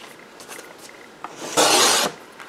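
Paper being cut for a travelers notebook insert, a short rasping scrape of a blade through the sheet that swells into one loud, close stroke near the end after a few faint rustles.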